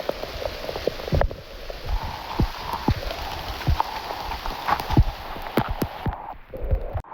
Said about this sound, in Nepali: पानी पर्यो साथीहरू, भागेँ म त